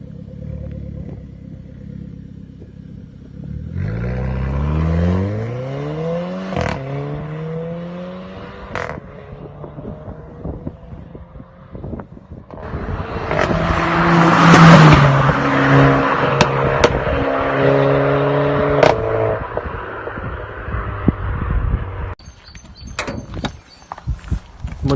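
The engine of a Renault Clio 4 RS idles and then revs outdoors, with rising and falling tones, a loud rev peak midway and a door clunk near the end, all close and with no talk.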